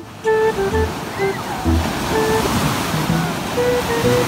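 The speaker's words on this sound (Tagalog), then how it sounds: "Ang lakas ng alon." Steady rush of surf breaking and washing in, with scattered tonal beeps and faint background voices over the continuous roar of water.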